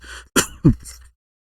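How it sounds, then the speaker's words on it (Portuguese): Two or three close, sharp coughs picked up right at the microphone, followed by silence. "Foi mal tossir no microfone."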